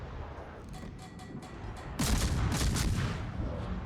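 Naval artillery shells fire in a warship video game, a rumbling barrage that swells suddenly into loud, dense booms and crackling blasts midway, with a player's voice faintly underneath.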